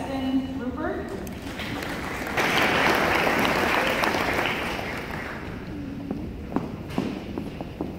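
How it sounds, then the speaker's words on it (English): An audience applauds inductees at a school honors ceremony, clapping swelling to a loud peak midway and then tapering off, with a voice briefly heard at the start and near the end. "Let's give them one more round of applause."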